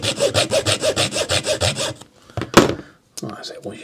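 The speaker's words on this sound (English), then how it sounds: "take my little blade off the junior hacksaw, and I'm just going to get rid of them" A junior hacksaw cuts through a wooden model ship rib with about a dozen quick, even back-and-forth strokes, close and crisp, followed by a few light knocks.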